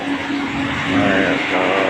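A train pulls into a station in Vientiane, its heavy rumble and rolling clatter close and loud for a moment, with a faint voice in the background.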